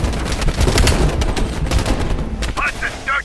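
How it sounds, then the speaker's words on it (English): Heavy machine gun fire in Call of Duty Black Ops Cold War: loud, dense bursts of rapid shots with booming impacts, fading near the end where brief voices break through. "Heavy MG on the ridge."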